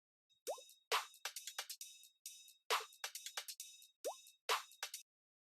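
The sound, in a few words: percussion loop from Cymatics with a water effect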